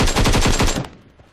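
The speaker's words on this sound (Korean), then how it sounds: "총소리 났다 아까" Rapid burst of automatic gunfire in the mobile game PUBG Mobile, about eight quick loud shots, then a fading echo.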